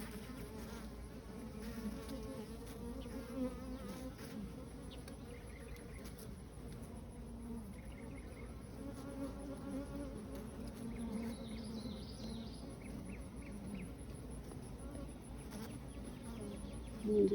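Honeybees buzzing steadily around an open hive, a dense, continuous drone close by that stays even in loudness throughout.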